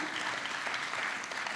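An audience at a short-film presentation and Q&A bursts into brief, dense applause, a full wash of clapping from many hands.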